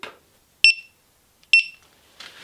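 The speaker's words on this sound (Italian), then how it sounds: "bastano due bip" Two short, bright electronic beeps, each sounding once with about a second of silence between them, clean and close.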